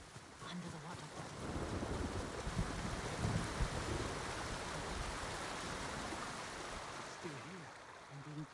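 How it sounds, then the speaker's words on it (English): In the video game Ghost of Tsushima, a waterfall and stream produce a continuous broadband rush of falling water that stays steady throughout, with faint low voices now and then beneath it. "Under the waterfall."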